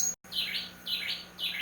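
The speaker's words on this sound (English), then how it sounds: "there's a noisy bird" A noisy bird chirps in repeated bright, high bursts, fairly close and loud, three phrases in quick succession over a steady background hum.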